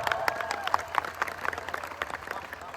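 An audience applauds at a Marathi commemorative speech event honoring Mata Ramai, a steady dense patter of claps filling the space at moderate loudness with crowd murmur underneath.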